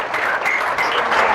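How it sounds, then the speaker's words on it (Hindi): Steady, dense applause from an audience at a selection felicitation ceremony in Ayodhya, filling the whole short moment at an even, fairly loud level without pauses. "जोरदार तालियां।"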